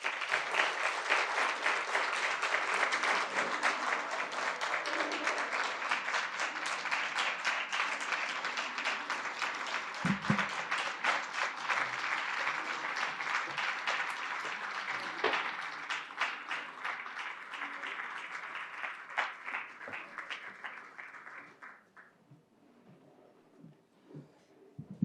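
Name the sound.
audience applause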